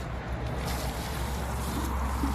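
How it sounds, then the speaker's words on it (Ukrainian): Two freshly planted rose cuttings are watered in an autumn garden, with a steady, close stream of pouring water running through the whole moment. "Зараз ось вони ці дві палички поливаємо."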